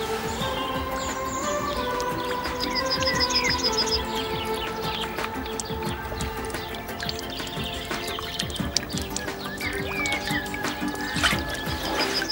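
Water drips steadily through a homemade filter outdoors, with birds chirping and calling throughout at a moderate, even level.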